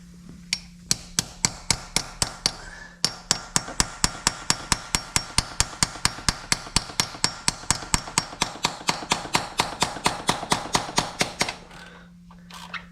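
A hammer strikes metal on a Ford 5.4 Triton two-valve engine again and again, loud, sharp and close, in a fast steady rhythm of dozens of blows after a few slower ones, with a short pause early on.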